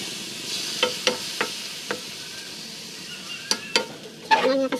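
Chicken stir-fries in a hot pan, a soft steady sizzle broken by several sharp scrapes and knocks of a utensil against the pan, growing busier toward the end.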